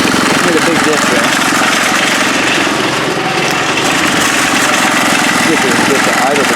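Engine idling at a steady, loud, close level, a dense continuous rumble with a loose muffler pipe rattling throughout; a voice is faintly present beneath the noise.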